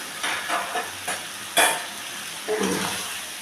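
Fried pumpkin pieces are stirred into fried spices in a hot pan, with a steady oily sizzle and several close, distinct scraping strokes of a spatula, one sharper clack standing out.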